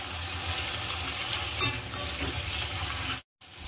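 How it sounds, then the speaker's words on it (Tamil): Okra and brinjal sauté in oil with a soft steady sizzle and a couple of brief stirring clatters, close by, cutting to silence near the end. "இந்த அளவுக்கு நல்லா வதங்கி குக் ஆகணும் எண்ணெயில்"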